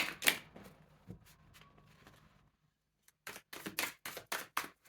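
Tarot cards being shuffled and drawn, a soft riffle of card flicks followed by a pause, then a burst of sharp, close card snaps and slaps.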